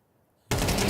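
A loud, sustained burst of gunfire in a Counter-Strike esports match erupts abruptly halfway through after near silence, then holds dense and continuous to the end.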